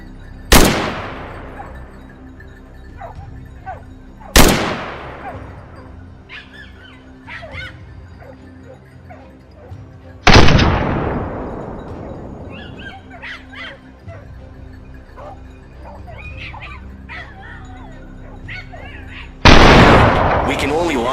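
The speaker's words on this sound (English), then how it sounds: "Gunshots echo" Several loud gunshots during a feral pig hunt on a Texas farm, four sharp cracks spaced several seconds apart, each with a long echoing decay, between them outdoor ambience and faint scattered sounds.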